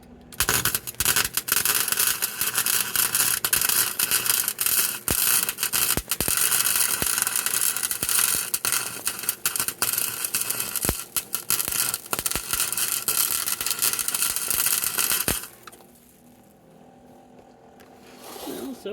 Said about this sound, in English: So I'll give you a shot of me welding this pipe on here.